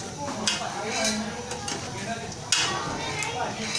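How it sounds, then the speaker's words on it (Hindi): Black chickpeas roasting in a pan with spices, with scraping and clinking from a spoon against the pan under steady sizzling, a couple of sharper knocks standing out, close and moderately loud. "चनों को हम लोग थोड़ी देर भूनेंगे।"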